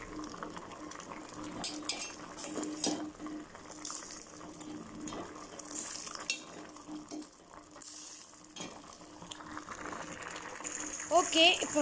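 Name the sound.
mixing vegetable soup with pepper in a pot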